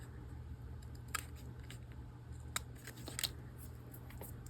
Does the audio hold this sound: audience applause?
no